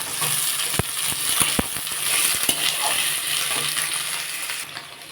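Tomato frying with pumpkin greens in a pan, a close steady sizzle broken by several sharp clacks and scrapes of a spoon stirring, with no voices.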